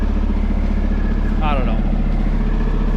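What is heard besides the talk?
Peterbilt 389 truck diesel engine running after injector change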